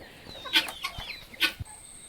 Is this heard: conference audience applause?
no